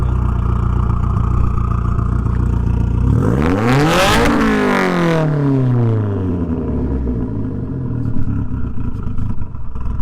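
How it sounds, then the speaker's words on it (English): A loud Mitsubishi Evo X engine idles, then revs sharply upward and drops back down in one surging sweep before returning to a steady rumble. "when you rev that thing up, that thing literally opens up"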